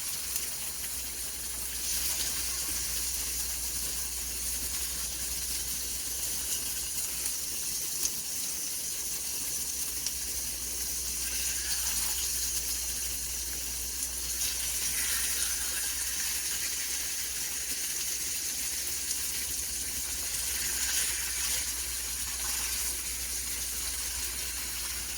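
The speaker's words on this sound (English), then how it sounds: "lay our steaks into the pan" Sirloin steaks laid into a hot pan give a steady, loud hiss of searing that holds evenly with no pauses and no voices.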